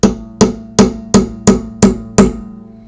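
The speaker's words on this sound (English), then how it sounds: "I don't want to hammer this really hard" Seven evenly spaced, light metallic taps of a hammer on a fret of a roughly forty-year-old guitar, each a crisp close strike with a short ringing decay.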